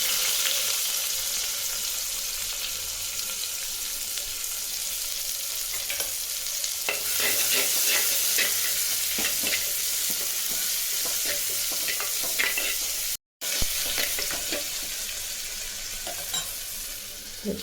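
Chopped onions fry in hot oil for Tirunelveli-style sambar with a continuous loud sizzle. Stirring scrapes and clatters in the pan come through over the sizzle, and a brief dropout occurs near the end.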